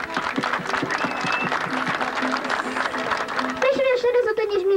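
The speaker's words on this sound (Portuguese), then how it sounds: "eu queria pedir uma salva de palmas para os guitarristas" Outdoor bullfight-event crowd applauding the guitarists, rhythmic clapping under chatter and a sustained tone, with voices and livelier sound rising toward the end.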